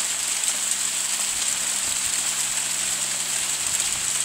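Hail falling steadily outdoors under a sky of blue patches and gray clouds, a dense constant patter heard close and loud without a break, with no voices over it.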